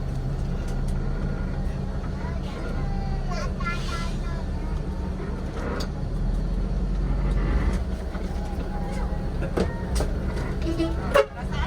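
Neo Trans intercity bus on the night road toward Makassar, its engine rumbling low and steady with road noise and occasional horn toots, while faint voices talk in the cabin.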